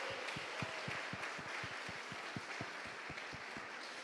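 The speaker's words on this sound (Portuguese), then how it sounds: "Vamos dar uma salva de palmas para nós?" Scattered hand claps during an online church service, a steady rhythmic series of distinct claps at moderate distance over faint room noise, sounding like a small group clapping in time.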